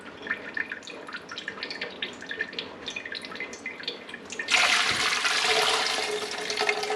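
Homemade bone broth poured through a strainer, a soft trickle and dripping that suddenly swells into a steady, splashing pour of liquid nearby.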